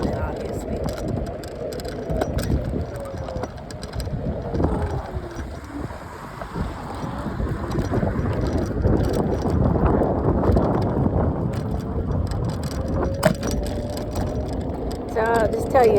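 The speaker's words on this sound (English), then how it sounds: "So I'll just tell you a story while I'm scooting home." Wind rushes in a steady, buffeting roar over a microphone while someone rides a scooter home, with a voice talking underneath and occasional bumps and brief tonal squeaks.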